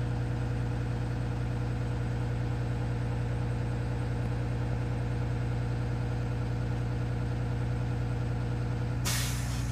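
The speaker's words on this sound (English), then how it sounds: "So I'm looking for the governor to cut off." A parked bus idles with a steady low engine drone, and near the end the air brake compressor governor cuts off with a sudden sharp hiss of released air.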